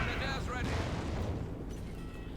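Dense, rumbling battlefield noise from a strafing air strike in the video game Company of Heroes 2, with continuous low booms and gunfire-like crackle over 2 seconds, fairly loud and steady.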